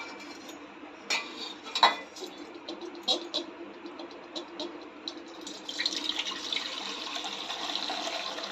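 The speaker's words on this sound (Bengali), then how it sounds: "এবার আমি অন্য বাটিতে দুধটা দিয়ে দেবো" Milk poured from one bowl into another while preparing Kolkata-style mishti dahi, a soft liquid splash with a few light clinks of bowl or utensil, close by and fairly quiet.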